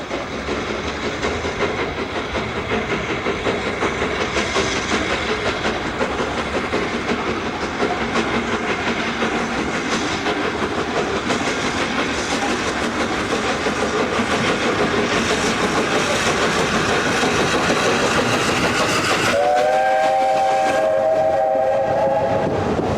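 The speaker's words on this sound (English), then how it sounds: "It's now probably the most advanced British steam locomotive ever." A British Railways 8P steam locomotive runs along the railway with a steady, loud rumble and wheel clatter, and a whistle tone near the end.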